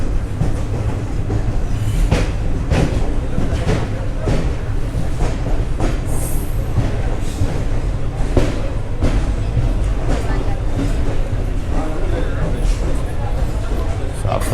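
Mumbai LTT–Shalimar express train arriving at a platform, with a continuous rumble of wagons and rhythmic clickety-clack of wheels over rail joints, loud and close, while someone talks throughout.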